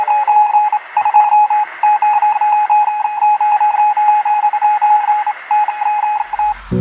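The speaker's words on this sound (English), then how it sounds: "The beep you just heard, that was the sound of the electric telegraph" A rapid series of short electronic electric-telegraph beeps in a steady rhythm, tone pulses repeating over a faint hum, ending with a brief different sound.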